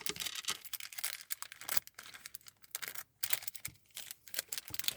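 Close, crinkly plastic and paper rustling with sharp snips and tearing as a bag is cut open, in quick irregular bursts with short quiet gaps.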